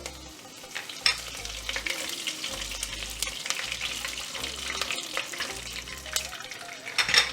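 Dried red chillies and curry leaves crackle in hot oil for a curry lemon pickle, a busy close sizzle broken by stirring clatter and a few sharp pops, with no voices.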